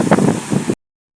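Gusty wind buffets the microphone on a stormy sea shore where fishing boats are moored, a loud rushing roar lasting under a second before cutting off abruptly.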